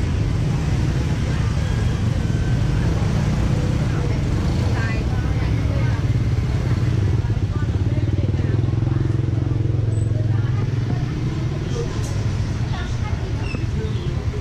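Motor scooters weave and pass continuously through a shaded Vietnamese street market, a steady loud engine drone and traffic hum throughout, with people talking in the background.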